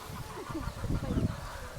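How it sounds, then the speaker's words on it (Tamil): A chicken clucks softly a few times, fairly faint and a little distant, over a low background rumble. "இது வந்து எங்களுடைய"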